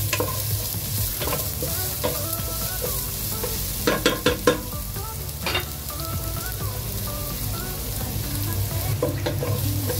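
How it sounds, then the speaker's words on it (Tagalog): Onion sautés with garlic in a hot pan for a beef kaldereta, a loud continuous sizzle with clusters of sharp scraping and clinking from stirring near the middle and again near the end. "Sunod natin ang sibuyas."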